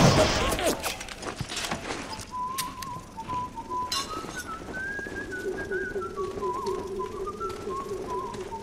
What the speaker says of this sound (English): I love that tune that guy's whistling.